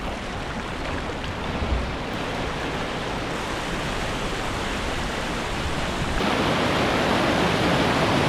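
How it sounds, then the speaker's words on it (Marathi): Flowing stream near a railway crossing in rural Konkan farmland, a dense continuous rush of water that stays steady and close, growing slightly louder toward the end. "किती सुंदर ओढा आहे बघा"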